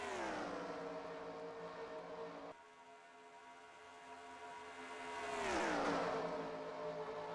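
Stock cars racing at Chicagoland in an Xfinity series auto racing video game, engines droning and sweeping past in pitch with a louder car rushing by near the end.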